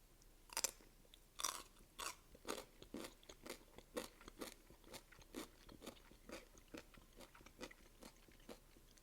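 Someone bites into and chews a thick piece of pickled radish, producing a steady series of crisp, wet crunches close to the mic, roughly one every half second, with no talking.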